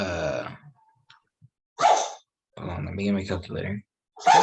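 A sharp, explosive sneeze bursts out between stretches of speech, near and loud, followed by more talking.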